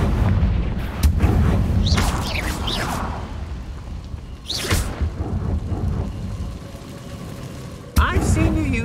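Confringo fire spell explosions in Hogwarts Legacy, several loud booming blasts with whooshing bursts spread across the stretch amid battle noise, and voices shouting over the action.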